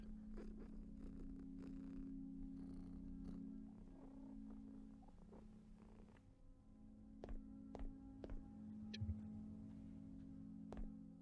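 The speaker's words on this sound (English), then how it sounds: "Why am I lost a follower while petting the kitty?" A cat purring steadily while being petted in the psychological horror game BrokenLore: UNFOLLOW, a soft, continuous close-up rumble with faint scattered clicks and rustles layered over it, no speech.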